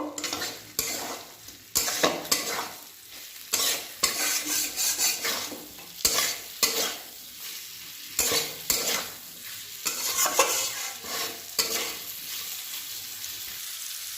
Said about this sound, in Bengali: মশলার সাথে উচ্ছে আর আলুটাকে ভালো করে একটু নেড়ে চেড়ে নেব।